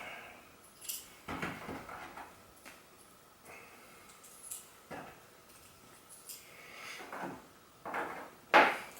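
Small metal flat washers are handled and dropped onto studs while fitting a Camel ATR tank on a Honda Africa Twin, producing light clicks and soft knocks scattered at an irregular pace with a faint rattle.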